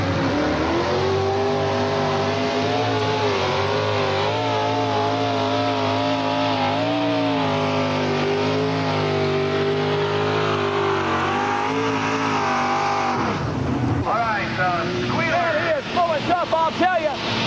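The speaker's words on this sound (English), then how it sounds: "That tractor was really pulling good." Loud, sustained roar of a modified pulling tractor engine straining at full power during a 5800 class pull at Bowling Green, Ohio, holding steady for about thirteen seconds before cutting off, with a brief crowd and engine wind-down afterward.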